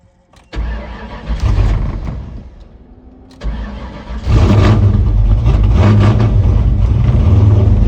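A 1996 Ford Mustang with a swapped engine and a very radical cam cranks, dies briefly, then cranks again and catches into a loud, steady, rough-sounding run close by.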